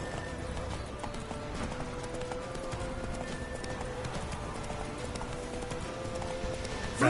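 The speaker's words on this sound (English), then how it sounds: "Run, Roach" Steady hoofbeats of a horse galloping in the video game The Witcher 3, an even, continuous clip-clop rhythm at moderate loudness from start to end.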